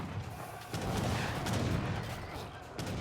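Gunfire from a sniper shot in a strategy video game, booming blasts and a rumbling explosive crack that stand out against a busy battle-noise background, close and loud.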